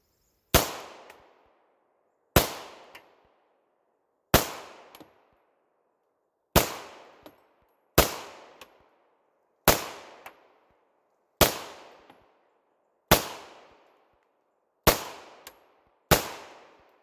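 A full-frame 9mm pistol is fired at a range: ten sharp, loud single shots spaced roughly a second and a half to two seconds apart, each with a short decaying echo, and no talking.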